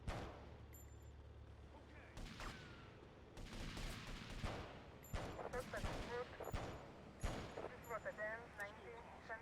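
Pistol shots in an online shooter game ring out as several sharp, loud cracks spaced across the stretch, with game noise and voices talking in between.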